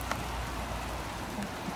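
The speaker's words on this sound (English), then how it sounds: "It's raining." Steady rain hisses evenly, with a few scattered drops tapping nearby against a constant background wash.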